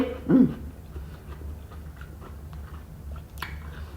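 Someone eating sweet, seedless watermelon in a cold room, with one close, wet bite near the start and then faint, soft chewing against a quiet hum.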